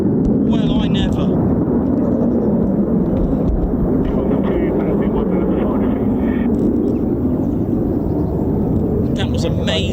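F-35B stealth fighter jets making short takeoffs at an air display give a loud, continuous, roaring engine blast that fills the whole stretch at steady intensity, with faint voices beneath.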